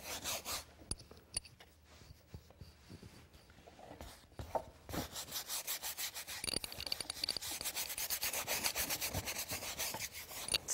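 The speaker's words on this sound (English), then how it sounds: "Scribbling down here too, because it's going to make some great texture." Paint scribbled onto a wall with a brush for texture, a steady dry rubbing and rasping of bristles against the surface, close and fairly loud, in fast repeated strokes that build into continuous scrubbing toward the end.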